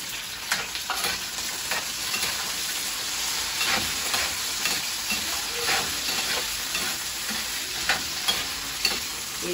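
Marinated beef steak sizzles and fries in a pan, a steady close hiss broken by scraping stirs at irregular intervals, with no talk.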